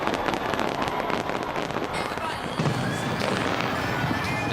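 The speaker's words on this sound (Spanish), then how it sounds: "Los masivos espectáculos pirotécnicos en China y Corea del Norte" A New Year's Eve fireworks display bursts and crackles continuously at a moderate distance, with dense overlapping pops and a wind-like rumble underneath.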